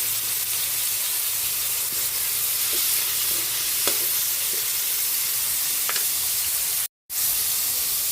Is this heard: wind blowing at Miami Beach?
no